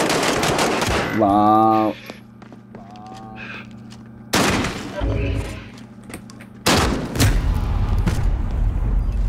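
Gunfire in the Call of Duty Warzone video game, loud bursts of shots and blasts arriving in several separate volleys, with game effects and a player's voice in between.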